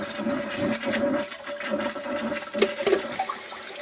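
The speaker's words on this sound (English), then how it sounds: "push this down and you flush it" A toilet flushes after its tank flush valve is replaced, a close rush and gurgle of water that swells, then settles into sloshing with a few small clunks.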